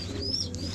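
Fancy homer pigeons give a soft, brief coo amid a faint chirp, heard at close range over low background noise.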